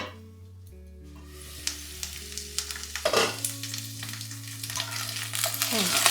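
Potato pieces frying in oil in a covered pan over lowered flame, a soft continuous sizzle with scattered crackles and pops that grow busier, under a low steady hum and tones.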